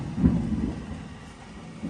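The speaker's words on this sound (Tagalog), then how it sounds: "Tapos sinasamahan ng kidlat, kulog." A low, muffled rumble of thunder during a windy storm with lightning rolls in the distance, swelling briefly and then fading beneath a steady background hiss.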